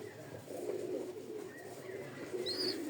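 Soft, low pigeon cooing murmurs steadily throughout, with a few faint higher chirps near the end.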